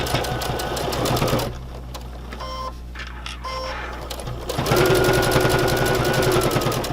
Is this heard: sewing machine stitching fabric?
yes